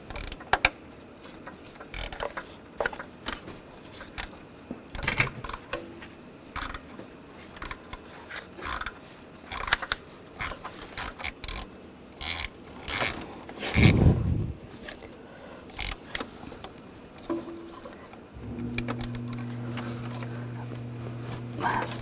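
A VW Tiguan turbocharger bolted to its exhaust manifold being fastened, with scattered metallic ratchet clicks and tool taps coming close and irregular, followed by a steady hum near the end.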